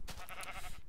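A single short sheep bleat from the Minecraft HaloCraft mod sounds faintly and briefly with no talking.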